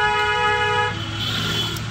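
A car horn blares in one sustained honk lasting about a second over low traffic engine rumble, then cuts off, sounded while overtaking during an Indian driving lesson.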